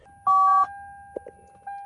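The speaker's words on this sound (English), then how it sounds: "Did you hear the phone?" An electronic beep from a car phone in a high-mileage Lexus rings out in a short tone burst, followed by a steady high-pitched hum, a couple of faint clicks, and a second brief beep.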